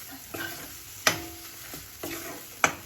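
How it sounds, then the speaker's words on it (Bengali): A flat-bean mash is stirred in a hot pan to cook off its water and oil, with a soft continuous sizzle and a few sharp spoon scrapes against the metal, close and alone. "যাতে শুকিয়ে যায় তার জন্য ভালো করে এটা আমি নাড়িয়ে নিচ্ছি"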